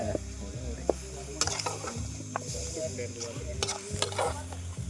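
Food stirred in a pot makes close scraping and sizzling sounds with occasional utensil knocks, over a low rumbling hum.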